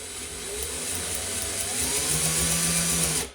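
An electric drill spins over a Matchless Model X motorcycle engine that won't start, giving a steady, loud whirring drone that holds for several seconds and then cuts off abruptly.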